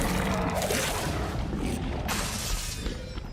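Disarming spell cast in the video game Hogwarts Legacy, a loud crackling magical burst with a glassy shattering crash that fades into a rumbling tail.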